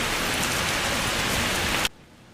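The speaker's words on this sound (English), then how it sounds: "It was a wet and rainy day here around campus" Heavy rain pours steadily on a university campus during a major storm, a dense close hiss of drops on surfaces that cuts off abruptly near the end, leaving quieter background.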